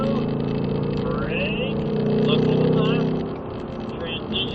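A Ford Mustang engine on a race track pulls out of a low-speed corner, its steady drone rising in pitch as the throttle is squeezed on, then easing off; a driver talks over it.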